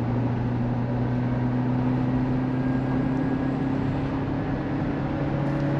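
A Suzuki Jimny 4x4 engine drones steadily at high revs while driving, a loud continuous hum with a strong low tone and road noise, no voices.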